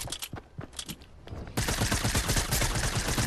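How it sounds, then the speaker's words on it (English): Enemy gunfire in a video game: scattered sharp shots at first, then a sustained loud barrage of rapid automatic fire from about halfway on, close and continuous. "This guy's shooting through things."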